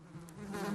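Wasps in a cartoon nest give a low, steady buzzing drone, quiet and continuous, that swells slightly toward the end. Nobody speaks.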